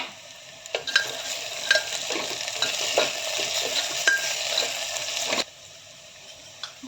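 Peanuts go into a pan of frying potato slices for soya khichdi, with a steady sizzle broken by repeated scraping strokes of a spoon stirring through the oil, close and clear, stopping abruptly near the end.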